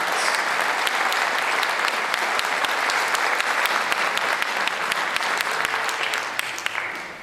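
A large audience at a high school band concert claps continuously in dense, sustained applause that begins to fade toward the end.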